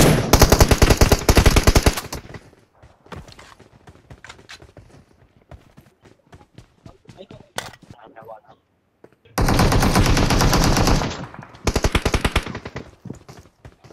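PUBG Mobile gunfire at the Paradise Resort map: loud rapid automatic bursts open the clip, then scattered fainter shots and footsteps, followed by another long sustained burst and a final rapid volley.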